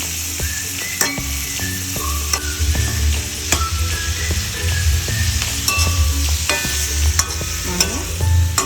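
Fish deep-frying in a pan for a fish curry gives a steady, close sizzle with occasional stirring clatter, and no one speaks.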